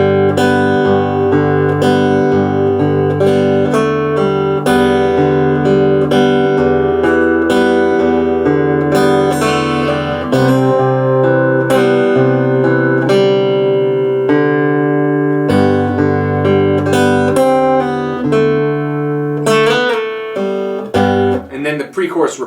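Fingerstyle acoustic guitar playing the pre-chorus of a song, a steady flow of plucked notes over bass, clear and close with no talk.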